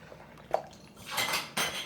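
A whisk and a large bowl are picked up for making creamy microwave hot chocolate, giving a sharp metallic clink and then a couple of short rattling, scraping bursts.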